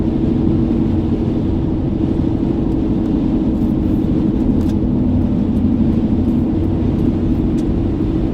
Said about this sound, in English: Why are you slowing down, Honda?